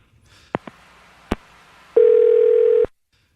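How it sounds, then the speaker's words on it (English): A few sharp clicks of a telephone handset, then a single steady electronic tone held for about a second before cutting off. "I'm going to dial her phone number right now."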